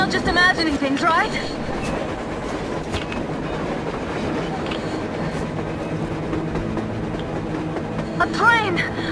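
A train rolling past on the surface in a snowy blizzard in the video game Metro Exodus, a steady low rumble with clacking under excited voices that shout over it near the start and end.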